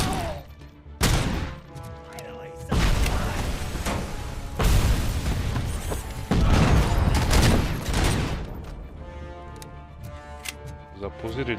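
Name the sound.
grenade explosion in the video game RoboCop: Rogue City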